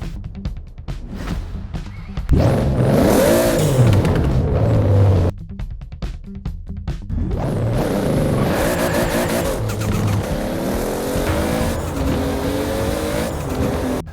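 Two cars, an Eclipse and a Supra, roar and rev hard as they accelerate head-to-head in a quarter-mile drag race, rising through gear changes, with a loud, continuous surge from start to finish.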